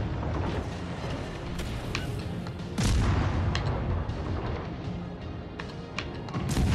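Naval guns boom again and again during a World of Warships Legends battle, with several sharp, loud salvos cutting through steady engine and sea rumble, one especially heavy blast near the three-second mark.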